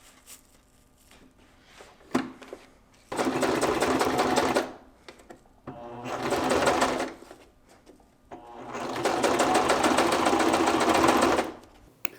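A sewing machine top-stitches four-way stretch fabric in three steady, loud runs, each lasting a couple of seconds, with brief quiet pauses between them while the fabric is adjusted.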